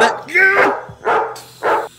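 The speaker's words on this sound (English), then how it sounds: "Shut that dog up!" Dog barking in bursts, three or four loud, close barks spaced about half a second apart, with a voice in among them.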